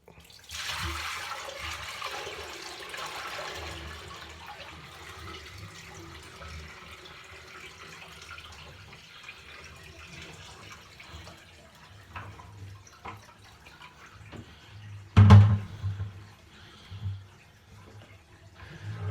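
Dirty toilet water from a toilet removal poured into a bathroom sink, a low steady rush of running and draining water with a sharp splash near the end followed by a few smaller gurgles.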